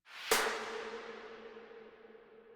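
Single hit layering an ass slap sample, saturated through Decapitator, with a big reverb-drenched pop snare, followed by a long, broad decaying tail, alone and fairly quiet.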